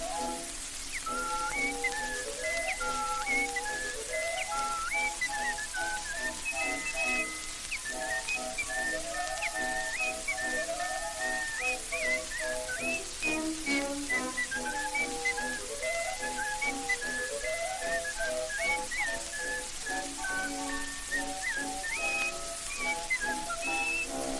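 A man whistles a familiar tune, an old-time recorded whistling act, loud and continuous with quick melodic runs and trills over light accompaniment, with no talking throughout.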